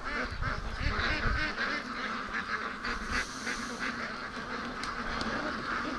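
Free-range ducks quack loudly and steadily near a lake, a dense overlapping chorus of honking calls that keeps going without a break.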